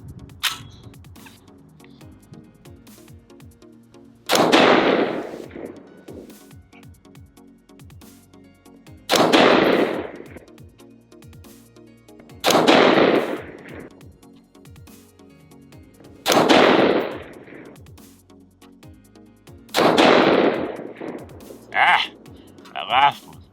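An AR-15 rifle fires Fiocchi 77 grain Match King hollow point boat tail rounds outdoors, five loud, widely spaced shots with ringing decay, then a quick final pair.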